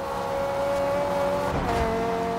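A high-revving Ferrari engine in the video game Forza Horizon 2 drones steadily, the pitch holding then dipping briefly as it shifts gears, loud and continuous with no talking.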